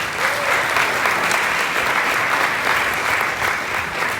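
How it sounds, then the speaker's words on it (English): Sustained audience applause at a community kickoff event in San Antonio, Texas, a steady dense wash of many hands clapping at even volume throughout, with no voices standing out. "so we can all applaud for that too"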